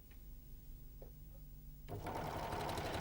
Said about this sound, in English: To sew a pin tuck, set your machine as for rolled or narrow hemming.